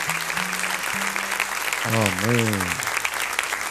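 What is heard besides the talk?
church congregation applause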